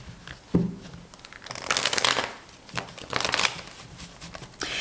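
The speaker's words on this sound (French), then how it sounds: "on va maintenant prendre notre oracle pour du sentimental et on va faire de tirage" Oracle cards shuffled by hand for a reading, heard close up as bursts of papery riffling and crinkling that rise and fall over a few seconds, with no talking.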